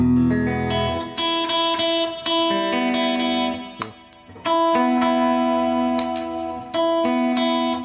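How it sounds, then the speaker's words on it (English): An electric guitar with a push-pull coil tap switched to single-coil mode, bright and Telecaster-like, picking a clean melodic line of short phrases and ringing notes, close and moderately loud, with no voices. "It's a single coil, so it can sound not unlike a Telecaster"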